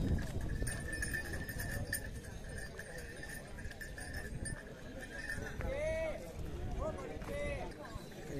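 Pair of bulls walking at a village cattle market in Vaijapur, their hooves clopping steadily amid a busy, noisy crowd with people talking nearby.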